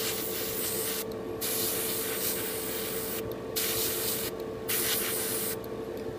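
Spray painting a pre-shade coat on a Bandai MG Freedom Gundam plastic model kit: close, continuous airbrush hissing in long bursts, cut by three short pauses, with no talking.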